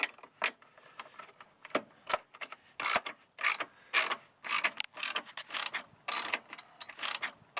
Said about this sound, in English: Keep on going, just removing bolts.